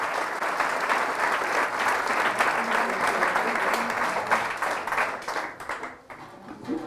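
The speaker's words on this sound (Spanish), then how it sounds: "Fuertes aplausos al Señor por su amor y su misericordia." Loud, dense applause from a church congregation praising the Lord, sustained for several seconds before thinning slightly near the end.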